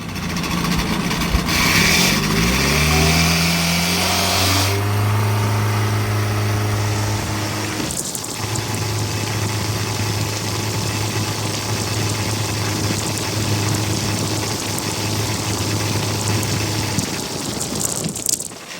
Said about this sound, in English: I just did a little bit of a dyno session there, just showed you the torque